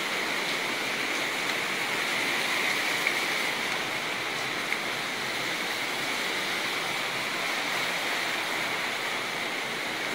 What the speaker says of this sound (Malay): kebetulan dekat luar pun hujan